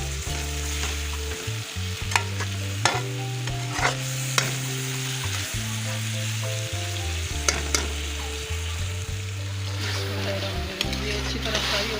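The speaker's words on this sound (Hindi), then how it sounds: "अच्छी तरह फ्राई हो गए हैं माशाल्लाह।" Bitter gourd and chana dal fry loudly in a pan, a dense continuous sizzle broken by periodic stirring scrapes and spatula knocks, with a low hum beneath.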